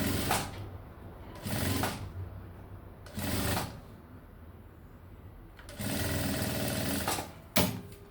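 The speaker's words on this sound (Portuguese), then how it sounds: "Viro pra baixo e inicio a costura." Sewing machine stitching fabric in short bursts: four or five runs of steady motor whir, each a second or so, separated by pauses, close and clear with no talk.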